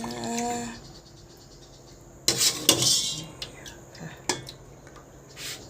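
Young coconut jelly is portioned into cups and molds with scattered clinks of cutlery and dishes, a few sharp taps and scrapes at close range, quiet between them, after a brief faint tonal sound at the start.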